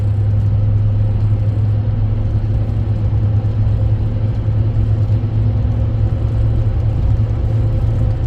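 A car driving with a cracked windshield, a steady low engine rumble and road drone heard from inside the cabin, continuous and fairly loud, no talking.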